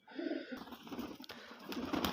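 Pigeons coo and scuffle close by in a home loft, a short run of soft burbling calls with flapping rustle, no voices.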